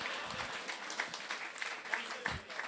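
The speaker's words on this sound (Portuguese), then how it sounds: "Família, aplauso para a pessoa que anda a fazer sofrer com a saúde, Lionel Miguel." Studio audience on a Portuguese-language talk show applauds, a steady patter of clapping running the whole stretch at moderate level, with a few louder claps standing out and voices mixed in underneath.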